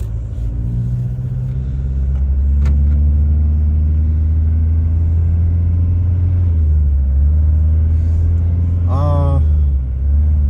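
A 2004 Volkswagen Jetta diesel with a four-speed automatic, steady low engine rumble while driving, rising slightly in the middle, with a brief squeak near the end.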